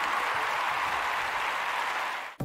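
Loud, dense applause from a studio audience at a Hindi television show, steady and sustained throughout before cutting off abruptly at the end.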